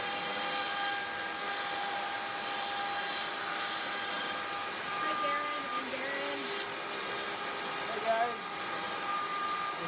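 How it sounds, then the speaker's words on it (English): A pin router whines steadily while cutting an RC airframe part, a continuous high motor drone with slight shifts in pitch and a brief bump as the bit bites, with no one speaking over it. "Showing the new pin router tonight that Brad helped with."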